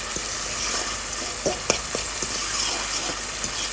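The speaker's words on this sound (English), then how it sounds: "So I soon go ahead and add the minced meat," Minced meat for lasagna fries in a pan with a dense, steady sizzle, punctuated by occasional sharper crackles and spatters up close, with no talking.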